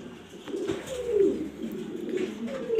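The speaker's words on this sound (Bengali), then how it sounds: "আপনারা দেখছেন গিরিবাজ কবুতর আলামিন পিজন লফটে" Giribaz pigeons cooing softly in a loft, a few low rolling coos repeating close by with faint background hum and no talk.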